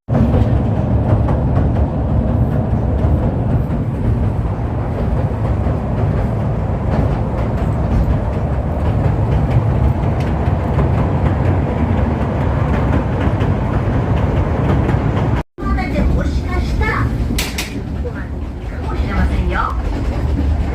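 Steady low rumble of a train rolling along the rails, loud and continuous, briefly cut off once before the rumble resumes.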